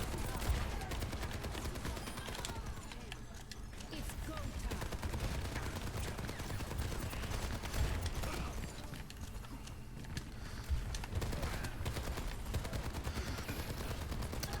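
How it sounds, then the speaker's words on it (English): Soldier's assault rifle firing in Overwatch 2 during a hotel-map payload match, sustained rapid bursts of gunfire that stay loud and dense throughout, mixed with other battle noise. "Soldiers' weapon definitely sounds more like a modern day sort of assault rifle now too"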